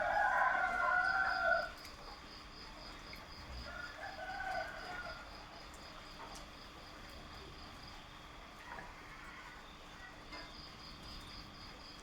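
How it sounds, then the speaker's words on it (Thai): A rooster crows loudly and nearby at the start, then fades into a night scene of steady insect chirping and faint rustling, with a distant rooster calling again later. "เสียงไก่ขันตัว"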